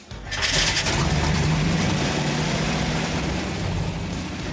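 An expensive classic car with a fuel injection system cranks and catches, then settles into a loud, steady engine rumble close by with no talk.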